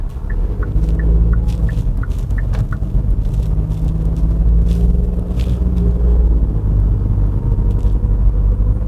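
A 2022 Hyundai Casper Van with a 1.0 gasoline engine drones steadily while driving in slow traffic, a low cabin rumble whose pitch eases and rises as it shifts up, without speech.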